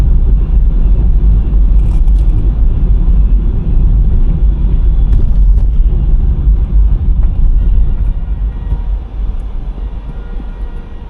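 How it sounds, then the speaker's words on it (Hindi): Car cruising on a highway at about 80 km/h, heard from inside as a loud, steady low road and engine rumble that eases slightly toward the end, with no talk. "जैसे इस टाइम भी मैं 80 पे चल रहा हूँ अभी, तो लाइट फुट पे गाड़ी चलाता हूँ मैं।"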